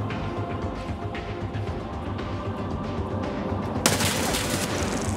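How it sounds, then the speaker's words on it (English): Video game battle with a grenade blast and gunfire, a dense rattle of shots over a constant rumble, ending in a sharp, louder burst near the end. "I was trying to curve a nade around the corner."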